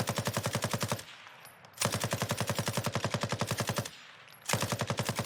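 Machine gun fire in the video game Warzone: two long, rapid, evenly spaced bursts of loud automatic shots, split by a short lull, with a brief third burst starting at the end.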